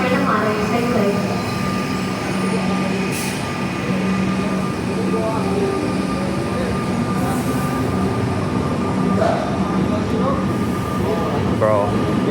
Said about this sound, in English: train is now departing, platform 2, stay clear